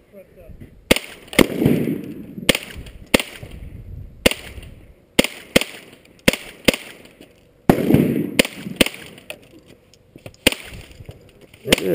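A 10/22 rifle fires during outdoor target practice, sharp loud gunshots in an uneven string of about fourteen shots, some spaced and some in quick pairs, with faint voices between.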